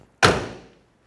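A 1969 Chevrolet Camaro Yenko-style car door gives a single sharp, close thunk as it is opened, with a short decaying rattle and no talking around it.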